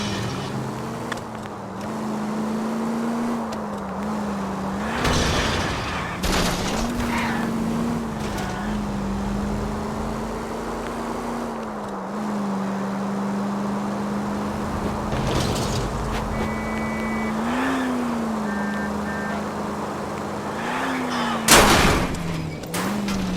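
Gunfire at a fleeing car in the L.A. Noire video game, several loud single shots scattered over a steady engine drone with rising and falling pitch, plus a heavier crash-like burst near the end.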